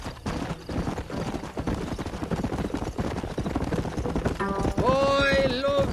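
Horse galloping in the Red Dead Redemption video game, a steady fast clip-clop of hooves close up, with a rider's voice calling out and a sung melody rising near the end.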